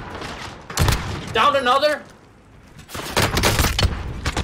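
Gunfire in the video game Call of Duty Warzone comes as loud, dense bursts of rapid shots before and after a short stretch where a player speaks, the shots close and harsh.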